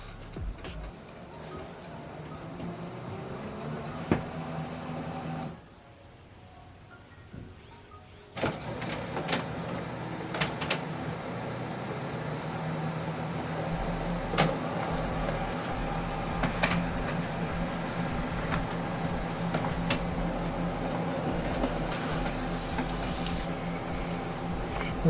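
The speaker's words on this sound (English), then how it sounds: "Now this document is going to print here." An HP Colour LaserJet printer whirs and hums while printing a document, a steady mechanical drone broken by a brief quieter pause, then resuming with intermittent clicks and feed sounds, heard alone at a modest level.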